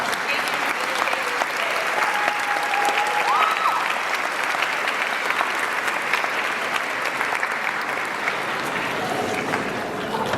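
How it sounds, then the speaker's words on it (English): Sustained applause from a large crowd at a high school graduation ceremony, dense steady clapping for about ten seconds with faint voices mixed in. "Let's give a round of applause for all those that have made sacrifices and extended love."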